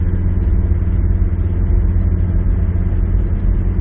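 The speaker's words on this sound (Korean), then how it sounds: "좀 가시다가 악셀을 한번 발라보십시오." A 2003 SsangYong Rexton diesel engine pulls steadily under acceleration while driving, a loud continuous low rumble with a constant drone throughout and no voices.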